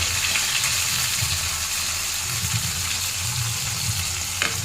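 Chopped shrimp frying with onion and green chili in a hot pan, a steady, loud sizzling hiss held close throughout with a faint clink of utensils near the end, and no talking.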